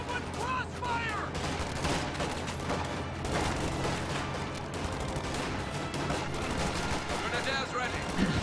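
Sustained gunfire in a World War II video game battle, rapid machine-gun bursts and scattered shots crackling continuously at mid-distance, with a voice speaking over the battle noise.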